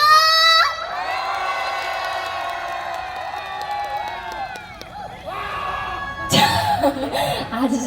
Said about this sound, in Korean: 더 크고 힘차게 한 번 더 박수와 함성!